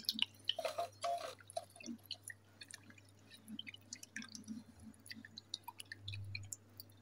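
Water being worked into rice flour in a bowl to break up lumps, heard as faint, close, irregular wet drips, squishes and soft stirring sounds with no talking.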